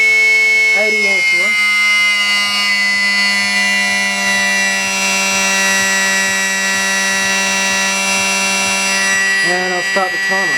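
A brushless electric motor driven by an ESC (Kosmik 200 or ICE2 160HV) runs at full throttle under an 80-amp load, giving a loud, steady, high-pitched whine with stacked tones that holds throughout, with brief talk at the start and end.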